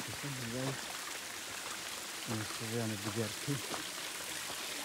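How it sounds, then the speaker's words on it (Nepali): A flowing stream heard as a steady broad wash of running water, with someone speaking in short bursts over it. "त्यो खोला"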